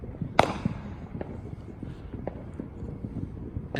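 Backyard Fourth of July fireworks pop in scattered bursts at home, one sharper bang early on followed by fainter, irregular cracks at a distance.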